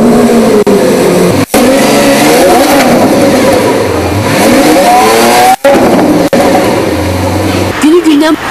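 A Lamborghini sports car engine revs and accelerates loudly on a city road in Baku, with a steady rising roar and brief cuts, while a narrator talks over it throughout.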